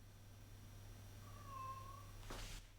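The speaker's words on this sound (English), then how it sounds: "My cat's literally outside my office door just meowing to get in." A cat outside a closed office door lets out one long, drawn-out meow, slightly muffled and moderately quiet, over a steady low electrical hum.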